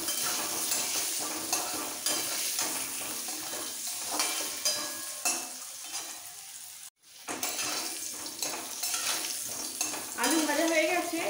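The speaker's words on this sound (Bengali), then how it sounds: "এবার ব্রাউন করে ভেজে নেব।" Potato pieces fry with red chili powder in a pan, giving a steady sizzle broken by the scrape and clatter of stirring, with a brief silent gap midway before the frying resumes.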